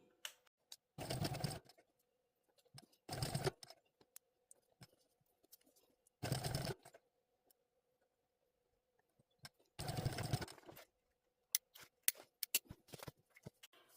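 A sewing machine top-stitches a fabric sling pouch in four short bursts of rapid stitching, separated by quiet pauses and small clicks.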